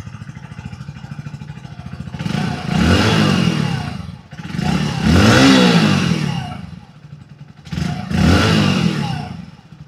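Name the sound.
motorcycle exhaust at idle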